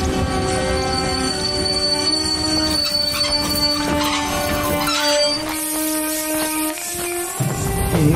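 A train rolls through a busy railway station with loud, sustained wheel squeal and a metallic rumble, with the high squealing tones shifting as the cars pass and steady station noise underneath.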